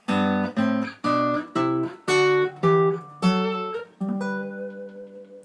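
Guitar notes played in pairs, stepping up a scale one harmonized interval at a time, each ringing briefly before the next, with the last pair left to sustain.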